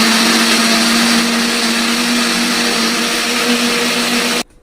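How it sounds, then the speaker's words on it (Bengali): A kitchen blender runs steadily at high speed, blending pineapple for juice with green chili added, loud and continuous with a constant motor whine before cutting off abruptly at the end. "এবার আমি ব্লেন্ডার করে নিয়ে নেবো"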